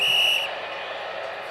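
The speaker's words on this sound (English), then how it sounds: "Whistle." A referee's whistle blows during an NFL game between the Vikings and Bears, one sharp high tone lasting about half a second over a broadcast crowd murmur.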